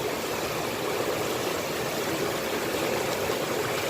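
Water sloshing steadily in a gold pan as black sands with sulfides are washed off, a continuous close wash of swirling water with no pauses or speech.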